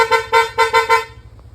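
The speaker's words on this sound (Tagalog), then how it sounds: "Bosch horn." Bosch EC6 horn fitted to a Yamaha NMAX V1 motorcycle sounding five short, loud, bright toots in quick rhythm, close and with no talk.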